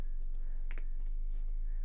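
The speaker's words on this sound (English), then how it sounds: "Keyboard noises." A short burst of computer keyboard typing, a few crisp, closely spaced key clicks heard up close and alone in a quiet room.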